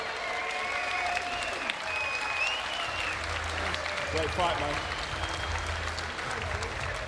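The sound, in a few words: crowd applause after a knockout fight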